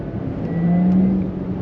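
A Porsche Taycan 4S's electric drivetrain whirs and rises in pitch as it accelerates, a smooth tonal whine over muffled road noise.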